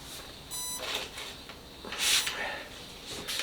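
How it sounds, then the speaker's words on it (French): A few short electronic beeps from an R-SNAKE V16PRO sound faintly at the start, followed by soft clicks and handling noises in a quiet room. "On va attendre qu'il ait fait son petit bip bip bip."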